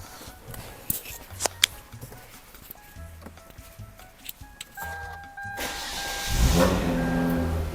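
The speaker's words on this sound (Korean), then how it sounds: "자, 시동 한번 걸어볼게요." A Hyundai Genesis Coupe with the 3.8 engine starts up near the end: a few scattered clicks and taps, then a surge of cranking that settles into a deep, steady running rumble close by.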